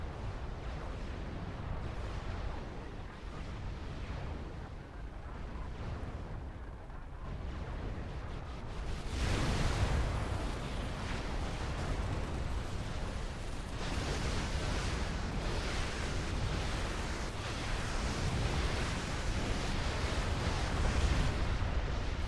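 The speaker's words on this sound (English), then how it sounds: "Lot of anti-air fire." Anti-air fire in a Supreme Commander 2 4v4 match: a dense, rumbling barrage of distant booms and bursts that grows heavier partway through and carries on steadily, with no voices.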